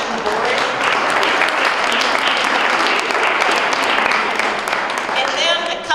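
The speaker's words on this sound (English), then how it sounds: "So one more round of applause for our incredible foundation board" A round of applause at a District 196 Foundation celebration for the foundation board, loud dense clapping from a large room that stays even and sustained throughout.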